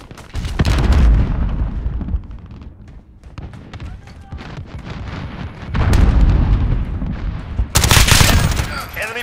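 Grenade explosions go off during a large-scale Ground War battle in Call of Duty: Modern Warfare. Several loud booms land about a second and then six to eight seconds in, between scattered gunfire, with faint voice callouts in the mix.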